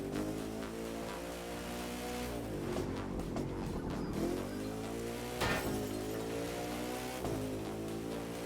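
A race car in The Crew 2 driving video game roars steadily, its engine pitch climbing and dropping through gear shifts. It stays close and loud, alone without voices.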